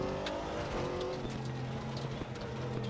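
Pack of GT3 race cars in a racing game lapping the Portimao circuit, engines droning steadily and blending together as they run past, a continuous mid-loud roar with no talking.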